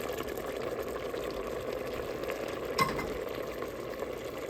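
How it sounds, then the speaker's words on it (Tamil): Low, steady sizzle of spices tempering in a small amount of hot oil for ridge gourd kootu, a soft continuous hiss with one brief clink partway through. "கொஞ்சமாக தாளிச்சு போட்டுருவோம்"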